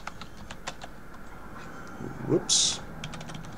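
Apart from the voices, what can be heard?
typing on a new computer keyboard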